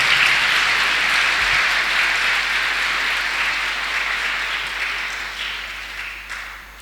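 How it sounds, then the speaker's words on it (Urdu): Loud, sustained applause from a church congregation at a Feast of Christ the King Sunday service, a dense wash of clapping filling the room for several seconds before easing slightly at the end. "آپ کی زوردار تالیوں میں۔"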